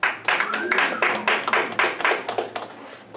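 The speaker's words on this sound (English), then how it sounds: "round of applause" An audience at a stand-up comedy show gives a short burst of scattered clapping, a few hands close by and uneven rather than a full roar, with some voices mixed in.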